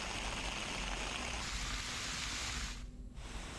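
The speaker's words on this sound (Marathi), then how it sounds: "सकाळपासून सिंधुदुर्गात मुसळधार पाऊस पडतोय" Heavy monsoon rain pours down steadily in Sindhudurg on the Konkan coast, a dense and continuous wash of noise with a brief dip near the end and no voices.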